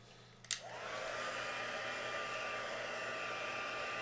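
Hair dryer blowing on a painted stencil, switching on with a click and then holding a steady, even whoosh of air with a faint motor whine throughout.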